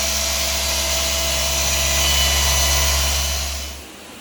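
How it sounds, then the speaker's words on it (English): A power polisher whines steadily while buffing an '87 Pontiac Firebird Formula 350, a loud continuous motor tone with a strong low hum that runs for nearly four seconds, then cuts off abruptly. "Doing a little polishing, eh?"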